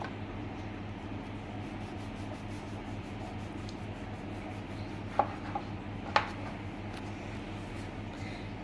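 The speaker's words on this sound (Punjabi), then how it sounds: "ਬ੍ਰੈਡ ਦੀ ਆਪਾਂ ਸਾਈਡਾਂ ਉਤਾਰ ਦਾਂਗੇ" A knife trims the crusts from bread slices, giving soft steady cutting and rubbing with a couple of sharper taps against the board, close and fairly quiet over a low hum.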